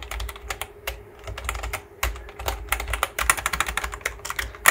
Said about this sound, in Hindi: तो मोस्ट ऑफ द जो कीबोर्ड है ये तो मेम्ब्रेन कीबोर्ड है, लेकिन आप इसके एक बार आवाज़ सुन लो।